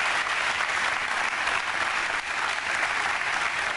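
Studio audience at a German TV sports show applauding steadily, a dense, even wash of clapping that holds at a constant level throughout with no voices on top.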